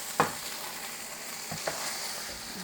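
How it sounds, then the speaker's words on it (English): Hamburger casserole mixture with onions and garlic being stirred in a pan, with a soft steady sizzle and a few sharp scrapes of the spoon against the pan, close and fairly quiet. "just mix that up real good in there and let that cook together for a little bit"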